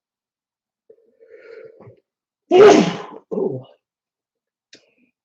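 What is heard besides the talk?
sneeze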